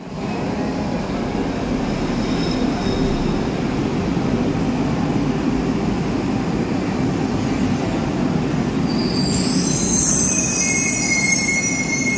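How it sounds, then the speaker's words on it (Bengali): A Rome metro train pulls into a station, a loud, steady rumble of wheels on rail filling the platform, with a high metallic brake squeal rising near the end as it slows; no one speaks. "মেট্রো চলে এসছে।"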